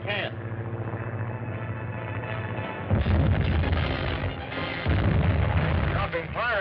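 Hand grenade blasts go off ahead of a moving car in an old Hollywood film serial, two heavy booming bursts about two seconds apart over a continuous rumbling roar.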